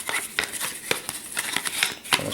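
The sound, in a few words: shuffling board game tiles for Mage Knight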